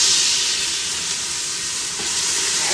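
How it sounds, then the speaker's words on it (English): Frozen onions and peppers sizzling in hot oil in a pan, a loud, steady hiss and crackle that fills the whole stretch without pause, close by, with no voices. "let's go ahead and add our frozen onions and peppers"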